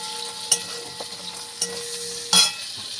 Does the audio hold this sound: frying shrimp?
yes